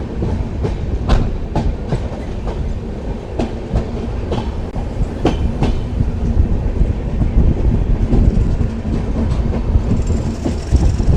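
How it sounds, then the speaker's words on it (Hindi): A train arrives at Jind Junction, rolling with steady rumble and rhythmic clickety-clack of wheels over rail joints, loud and close as though heard from on board, with wind buffeting and no talking. "ट्रेन पहुंच चुकी है जींद जंक्शन।"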